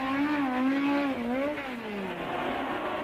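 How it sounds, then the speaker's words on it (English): 1964 racing cars on the grid at Brands Hatch, led by a Lotus, with a loud, close engine whine that rises and then falls in pitch, steady for about three seconds. "Jim Clark in pole position with the Lotus"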